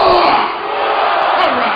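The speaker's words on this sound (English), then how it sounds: "Let me get a hoorah!" Concert crowd at a show in Marin, San Rafael, roaring a loud, sustained group shout of hoorah, a dense wall of voices that dips briefly mid-way and then swells again.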